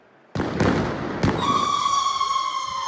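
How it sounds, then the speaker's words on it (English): Fireworks go off loudly during a night of disorder in Edinburgh between Halloween and Bonfire Night: two sharp bangs, then a lingering whistling, crackling burst. "Officers and emergency service workers were attacked with fireworks and missiles."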